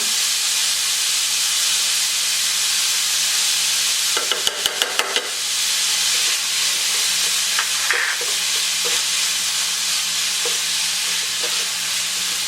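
Ground meat with pepper browning in a pan for million dollar spaghetti, a steady loud sizzle throughout, broken by a burst of clattering stirring strokes midway and a few lighter scrapes later.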